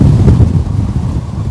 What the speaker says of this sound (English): And there's a big gust.